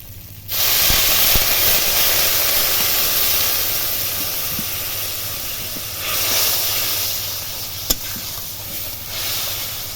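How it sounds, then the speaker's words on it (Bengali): Thick curry broth for jackfruit-seed dhoka dalna bubbles in a pan, a loud, continuous broad hiss and sizzle that swells and eases, with a single faint clink partway through. "ঝোলটা ফুটে গেছে"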